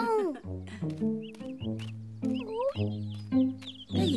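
Cartoon chicks clucking and cheeping in a rapid, chattering series of short calls, close and fairly loud, with no talk over them.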